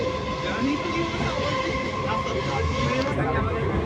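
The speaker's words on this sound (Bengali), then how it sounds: "বজবজ থেকে ট্রেনে উঠেছি" Steady rumble and rattle of a moving suburban train on a ride out of Budge Budge, loud and continuous throughout with nearby voices faintly under it.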